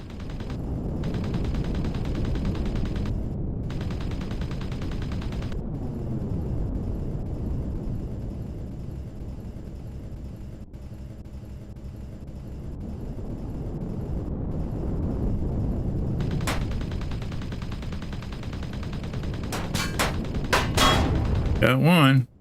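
Gunfire in the Empyrion Galactic Survival video game, shooting down trees: a dense, sustained rumbling barrage of weapon fire with crashing impacts, loud and continuous with a brief lull midway and sharper cracks near the end.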